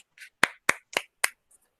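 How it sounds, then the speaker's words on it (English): A handful of sharp, separate claps from a small audience welcoming a guest at a community mental health event, about five close crisp hits in a quick uneven rhythm, with a faint trailing one. "Thank you for clapping."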